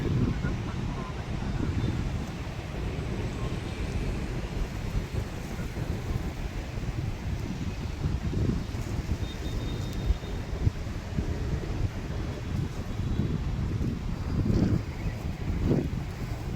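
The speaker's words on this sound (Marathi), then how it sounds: "बघा माझ्या केसावरून समजत असेल किती वारा वाहते" Strong wind on a hotel rooftop terrace in Vietnam buffets the microphone in a steady, roaring rush with gusty low rumbles throughout, no clear voices over it.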